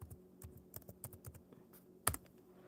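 Someone typing on a computer keyboard, a quick irregular run of soft key clicks with one louder sharp click near the end, close and clear with no talking.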